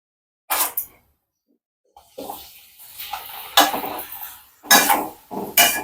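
Papad fries in hot oil in a kadhai, giving loud, close bursts of crackling sizzle separated by short silent gaps.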